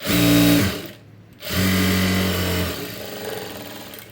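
Top stitching on opened-out cloth, a sewing machine whirs loudly in two bursts separated by a short pause, the second run fading into a lower mechanical hum.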